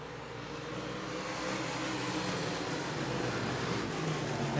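Stock cars race around Buena Vista Raceway, a steady loud engine roar that swells slightly over a few seconds, with no talk.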